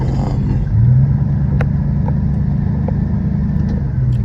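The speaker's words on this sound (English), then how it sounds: "Just going to take it for a quick drive just so you can see that it does drive and runs fine." A 1968 Plymouth Barracuda hardtop coupe with a V8 is driving, giving a steady low engine rumble with a slight rise in revs. It is close and continuous from inside the car, with no speech.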